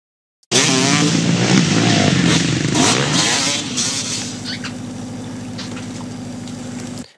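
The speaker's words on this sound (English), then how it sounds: "the audio of the motocross clip is faded out, even though we can see the motocross rider" A motocross motorcycle engine roars close by, revving hard for a few seconds before easing back into a steady, buzzing drone until it cuts off, with no voices present.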